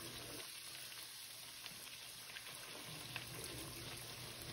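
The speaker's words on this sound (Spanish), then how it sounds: "Y que se empiecen a hacer, a freír." Corn gorditas frying in hot oil give a steady, dense sizzle with a few scattered crackles, moderately loud and continuous, with no talking.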